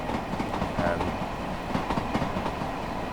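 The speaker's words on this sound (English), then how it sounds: "But now, hello, there's another train." A train rolls past with a continuous rumbling clatter of wheels on track, a steady mid-loud wash without pauses.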